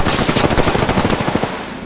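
Rapid automatic gunfire in the battle royale game Apex Legends, a dense burst of loud, closely spaced shots rattling continuously for nearly two seconds with no talk over it.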